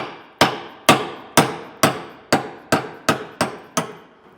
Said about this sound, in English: Take our hammer and knock this bolt out.